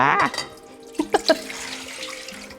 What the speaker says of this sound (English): we're gonna do 2 cups of water straight to the pot